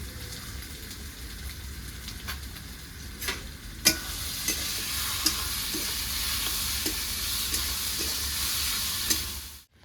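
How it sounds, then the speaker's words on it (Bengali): Chicken pieces sauté in a thick gravy for a village-style curry, a continuous sizzle broken by scraping stirs and sharp spoon knocks against the pot, with no talking. "মাংসটা ভালো করে গ্রেভির সঙ্গে কষিয়ে নিয়েছি"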